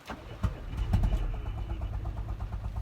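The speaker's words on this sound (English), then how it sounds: "She sounds like she has a terrible manifold leak" A car engine with a manifold leak idles close by with a rough, rhythmic ticking and puffing pulse, like exhaust escaping from a leak.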